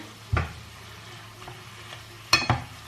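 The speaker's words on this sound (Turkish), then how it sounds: "Şimdi 1-2 dakikada bu şekilde kavuracağım." Soft sizzling in a pan with a few sharp clinks and scrapes of stirring, fairly quiet and close.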